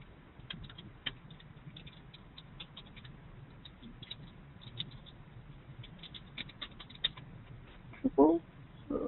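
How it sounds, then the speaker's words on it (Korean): Light, irregular keyboard typing with scattered key clicks, close by, over a quiet background with a couple of louder taps near the end. "제 이메일 주소 타이핑해서 보낼게요."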